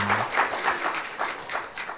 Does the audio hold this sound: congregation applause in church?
yes